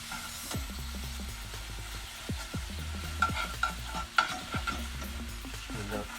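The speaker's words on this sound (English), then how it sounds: "I'm just going to mix that into our sauce" A reduced fish stock is stirred into a sauce in a narrowboat galley, with a soft simmer under repeated spoon taps and scrapes against the pan, close and quiet with no talk.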